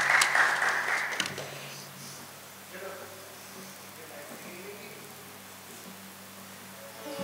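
Burst of audience applause at a Kathak dance ceremony, loud for about a second before dying away into a quiet room with a faint sustained musical drone.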